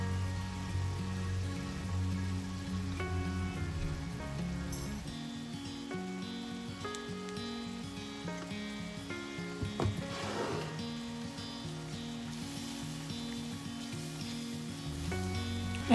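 A flour roux for beef stroganoff with canned ground beef cooks in a pan, a faint, steady sizzle running low and even for the whole stretch, with no talking.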